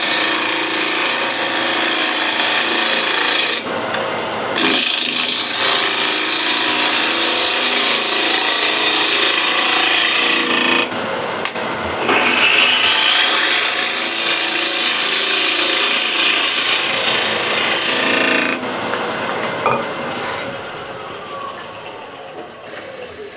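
Wood lathe rough turning a block of wood with a spindle gouge, a loud steady whir and scraping cut that runs almost unbroken, with brief shifts in tone as the tool moves, and no talk.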